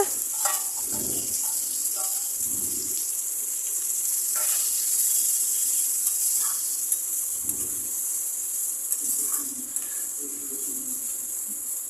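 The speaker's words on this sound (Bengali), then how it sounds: "এই ডালটা এখানে দিয়ে ভালো করে একটু নেড়ে চেড়ে কষিয়ে" Marinated masoor dal frying in a pan, a soft steady hiss with a few scattered scrapes of stirring, quiet and close with no voices.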